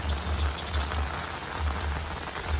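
Steady rain falls outdoors at night, a dense, even hiss of drops hitting surfaces with no talking over it.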